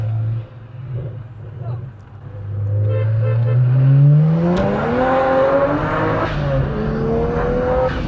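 A BMW's engine revs up hard in a street race, pitch climbing steadily as it accelerates close by, with a loud sustained roar throughout.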